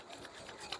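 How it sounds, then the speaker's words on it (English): Hands rub together briskly to warm them during a yoga session, a soft continuous dry friction heard close, alone and without speech. "Again, rub your hands, make it warm."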